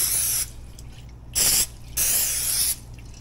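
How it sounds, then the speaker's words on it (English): Cooking oil sprayed from a can onto meat headed for a BBQ grill, three sharp hissing bursts of about half a second to a second each, close and loud, with short gaps between them and no talking. "Now spray some oil on them so the seasoning sticks."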